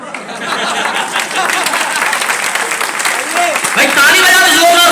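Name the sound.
audience applause at a poetry gathering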